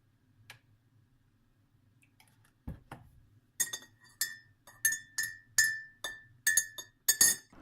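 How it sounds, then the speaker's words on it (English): A metal spoon stirs tea in a ceramic cup, a soft knock followed by a run of bright, evenly spaced clinks against the rim, close and clear with no voices. "Do you want to give it a quick stir?"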